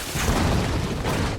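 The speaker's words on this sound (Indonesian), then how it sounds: "lalu meledakkan pintu ruangan tempat Zakar disekap" Explosion blowing open a door in a film scene: a loud, dense boom that rumbles on as sustained noise, with no speech.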